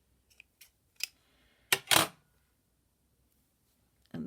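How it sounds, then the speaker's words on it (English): A few sharp snips of scissors cutting yarn for a tassel, spaced apart and close, with a longer crisp cut in the middle and quiet gaps between. "grab my scissors and just chop"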